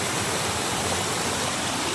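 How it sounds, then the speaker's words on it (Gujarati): Rainwater rushes along a road during an unseasonal downpour, a steady, dense roar of flowing water that continues without a break and with no voices. "જો અહીંયા કેટલો પાણી જાય છે તમને બતાવો."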